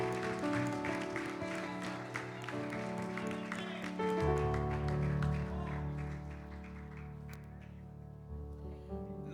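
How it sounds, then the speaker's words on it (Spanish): A church congregation applauds a preacher being welcomed at an evening service, a steady wash of clapping over sustained music that runs for about nine seconds. "Démosle un fuerte aplauso."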